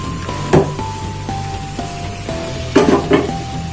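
Hot water poured into a hot pan with coconut milk powder for Padang rendang, giving a steady close sizzle with a few louder bursts and faint scrapes of stirring.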